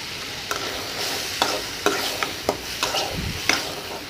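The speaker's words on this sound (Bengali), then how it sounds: "লড়াচড়া দিয়ে হালকা ভেজে নিব" Spiced chickpeas being stirred and lightly fried in a pan, a spoon scraping in steady strokes every half second or so over a soft continuous sizzle, close and with no talking.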